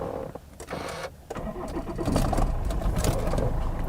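A diesel car engine cranks with a few stuttering turns, then catches and settles into a rough, loud, close idle with a heavy low clatter.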